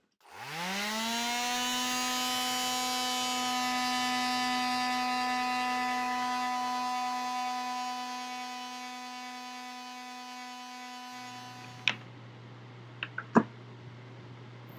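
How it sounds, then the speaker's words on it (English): An electric sander on wood, a loud steady whirring motor drone that spins up quickly, runs for about ten seconds, then winds down, followed by a few sharp knocks. "And then let's get our sander."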